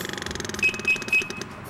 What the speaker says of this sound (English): Those sounds you heard are warning devices that let me know that I might be getting low on